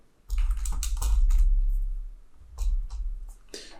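Brisk typing on a computer keyboard, bursts of close, crisp key clicks with short pauses between them and no voices.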